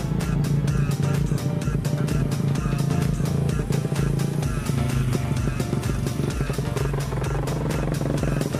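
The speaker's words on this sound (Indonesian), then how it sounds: "Bisa dilihat ya, motornya sudah naik ke perahu." Motorcycle engine running steadily at a river crossing dock on the Brantas River, rolling onto a small ferry boat, with a continuous loud drone and rhythmic clatter throughout.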